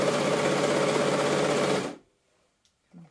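A sewing machine stitches a dragon cosplay wing in stretch fabric with no wadding, a steady loud mechanical whirr for about two seconds that then stops abruptly, leaving near silence and a small handling knock.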